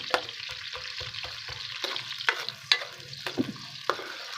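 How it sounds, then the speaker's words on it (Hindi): Sliced onions fry and soften in a pan for a potato and green bean sabzi, with a low continuous sizzle broken by a rapid series of spatula scrapes and taps against the pan, close and without talk. "इतना का हमने फ्राई करना है तकरीबन 1 या 2 मिनट के लिए, ताकि जो प्याज का कच्चापन है वो ख़त्म हो जाए इसके अंदर से।"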